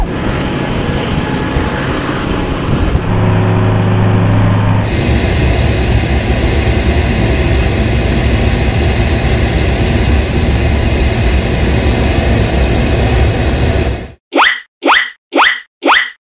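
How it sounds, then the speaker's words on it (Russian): A military transport aircraft's engines drone loudly and steadily for about fourteen seconds, followed by several short, sharp bursts of sound at the end. "Умничка, это самолет-транспортер."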